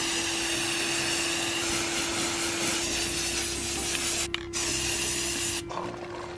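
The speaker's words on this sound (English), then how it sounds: "This is my spray painting station" Loud, steady hiss of an aerosol spray paint can held close outdoors over grass, briefly cut off twice by short pauses before spraying again.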